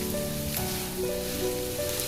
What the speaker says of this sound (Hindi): आप अब कच्चा कीमा लें, उसे चॉप करें तो घी में ऐसे डाल के फ्राई कर लें।